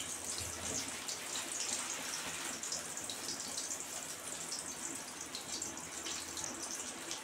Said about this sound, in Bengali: এখন চালটা দিয়ে দেব।